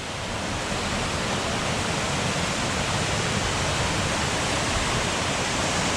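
A steady, rushing roar of falling water, loud and constant throughout, close by, with no talking.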